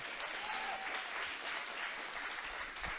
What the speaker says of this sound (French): N'hésitez pas à applaudir parce que je meurs de soif.